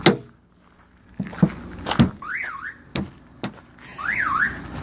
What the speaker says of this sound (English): Turns out, my Mirage has an alarm.